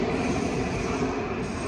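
Inside an RE1 regional express train to Cologne, a steady, loud, broadband rumble of wheels and running noise fills the carriage with no talk.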